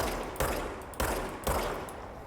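Three sharp gunshots from a recoiling gun in the action game Control, spaced about half a second apart, each with a loud broadband crack and a short decaying tail, alone with no talk.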